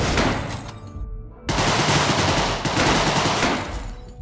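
A Tommy gun in the video game Deadbolt fires loud, rapid bursts of automatic gunfire, broken by one short pause before the firing resumes.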